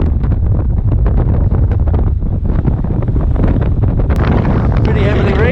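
Strong wind, around 25 knots, buffets a Hallberg-Rassy 54 sailboat crossing the Bay of Fort-de-France, a loud, steady roar of wind over the microphone with water noise beneath it.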